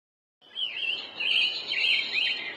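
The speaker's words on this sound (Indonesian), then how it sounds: "Kacer atau magpie robin," Oriental magpie robin song: a bright, continuous warbling run of whistled phrases with rising and falling notes, close and clear, with no other sounds after a brief silent start.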